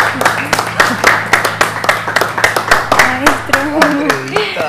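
A studio audience on a talk show applauds to welcome the host: brisk, loud clapping from a small crowd, close and rhythmic, with voices speaking over it as the applause winds down.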